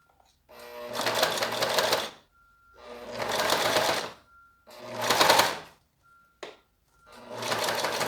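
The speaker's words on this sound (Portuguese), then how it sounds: "Costuro devagar." A domestic sewing machine stitches clear vinyl plastic slowly in four separate runs of rapid mechanical needle clatter, close and clear, each about a second long with quiet gaps between them.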